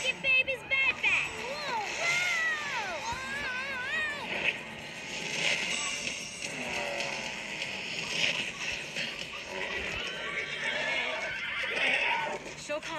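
A horse whinnies and neighs in a movie trailer, with rising and falling cries layered under voices and background sound.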